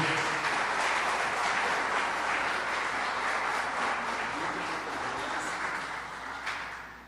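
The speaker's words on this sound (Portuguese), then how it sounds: "E eu peço mais uma vez uma salva de palmas." An audience at a spiritual temple gathering gives a sustained round of applause, dense and even clapping that fills the whole stretch before tapering slightly at the end, heard alone without talk.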